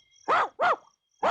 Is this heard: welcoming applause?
no